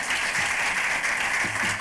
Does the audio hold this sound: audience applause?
yes